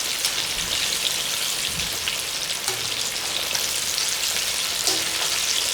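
Chicken thighs fry in a pan for Cantonese crispy fried chicken, searing to a crust with a steady, fine crackling sizzle like light rain, continuous and close with no talking.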